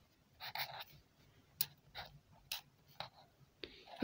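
A pen writes a name on a homemade birthday card in short, quiet bursts of scratchy strokes with pauses between, close and faint, with no talking.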